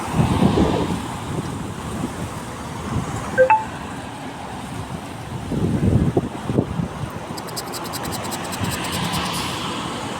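Gusty wind buffets a microphone outdoors at a small park, rumbling in uneven bursts that swell and fade over a background hiss.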